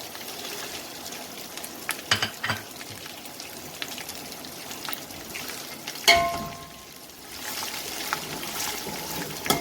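Onions and curry leaves fry with garam masala for a chana pulao biryani, making a steady close sizzle broken by a few sharp scrapes and clinks as they are stirred.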